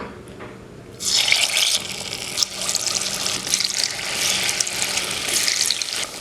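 Dates bonda batter dropped by spoon into hot oil sets off a sudden, loud, steady frying sizzle that keeps crackling close by to the end.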